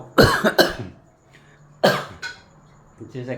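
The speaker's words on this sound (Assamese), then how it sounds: "কাহটো মানে যোৱাই নাই, ইমান কাহ।" Coughing in a few harsh bursts: a quick pair, then another loud cough after a pause, with a faint bit of voice at the end.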